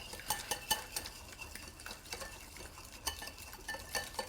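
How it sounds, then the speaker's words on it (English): A spoon stirs a thick yogurt salad dressing with Himalayan salt and cracked pepper in a bowl, giving soft, steady scraping and light clinks against the bowl, close and quiet, without talk. "Give this a good stir."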